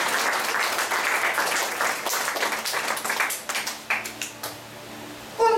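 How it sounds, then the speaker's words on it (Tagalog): A church congregation applauds in a dense wash of clapping that thins and tapers into scattered individual claps toward the end. "Palakpak mo na tayo"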